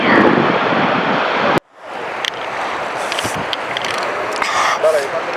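Sea surf washing onto the beach at Bakkhali, a loud rushing wash of water and wind that cuts off abruptly, then returns as a softer, steady roar with scattered splashes.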